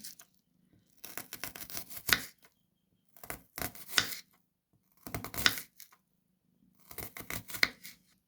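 A knife chops onion into small pieces in four separate bursts of quick, crisp strokes, close and clear with short pauses between bursts and no talking.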